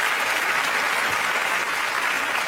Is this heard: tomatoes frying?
no